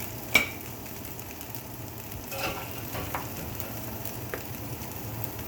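Shrimp and rice noodles sizzle steadily in a pan, with a few sharp utensil clinks and scrapes over the continuous frying hiss.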